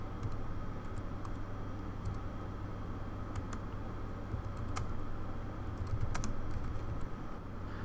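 Keys on a keyboard are tapped in quick, uneven bursts of clicks, close by, over a low steady hum.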